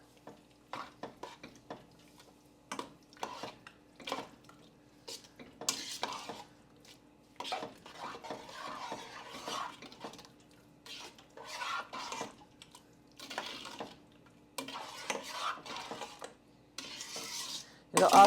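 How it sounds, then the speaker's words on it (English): A spoon stirs cranberry sauce with orange juice in a pot for water bath canning. Close scraping and soft clinks against the pot repeat in irregular strokes over a low simmering hum. "And give this a stir."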